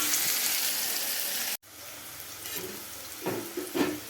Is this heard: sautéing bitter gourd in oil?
yes